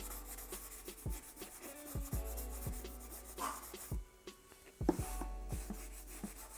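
A cloth or rag wipes oil paint glaze off a painting with soft, quiet rubbing strokes, a few light knocks and scrapes scattered through over a low steady background hum.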